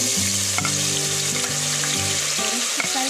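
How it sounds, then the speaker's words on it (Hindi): Potato pieces fry in hot oil for a vegetable pulao, giving a steady close sizzle with soft stirring scrapes throughout and harmonic background music. "हम पटेटो को ज़्यादा फ्राई नहीं करेंगे, बस लाइटली ब्राउन होने देंगे और उन्हें गर्म तेल से निकाल देंगे।"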